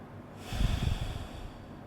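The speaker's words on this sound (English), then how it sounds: "Close my eyes and take a deep breath" A single deep inhale and exhale while steadying before a dry-fire trigger pull, close and soft, a breathy rush lasting about a second with no talking.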